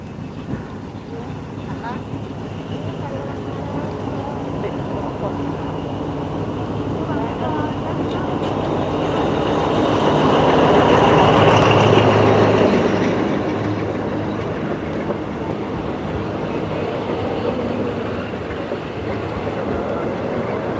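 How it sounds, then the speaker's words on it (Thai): A Thai train at a railway station makes a low, steady rumble that swells to a louder pass in the middle and then eases back, while someone talks over it. "เรามาดูรถไฟไทยกันก่อนนะครับ"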